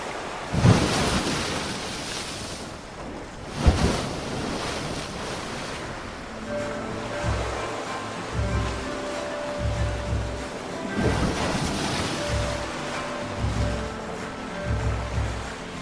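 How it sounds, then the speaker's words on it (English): Ship sailing across ocean waves in the pirate game Captain Bones, with washing surf and wind rising and falling in slow swells, under a soft low musical drone and occasional muffled thumps. "Let's raise the anchor, set sails, and head north to the sunken karst village."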